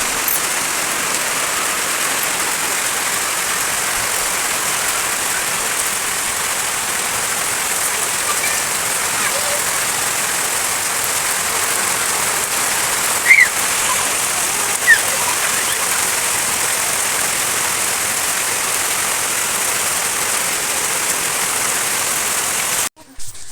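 Heavy rain pours steadily and loudly for the whole stretch, a dense even hiss that stays unbroken, with a couple of faint brief knocks near the middle and an abrupt stop at the very end.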